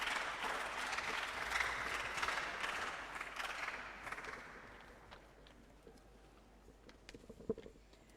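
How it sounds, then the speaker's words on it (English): An audience at a school science quiz competition applauds the contestants, a dense patter of clapping that is faint overall and fades away after about five seconds into quiet. "Won't you clap for them?"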